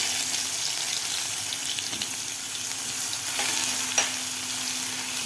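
Coarsely crushed garlic with a pinch of asafoetida fries in hot oil in a pan for a dry eggplant dish, making a steady close sizzle with light stirring and a brief clink, and no one speaking.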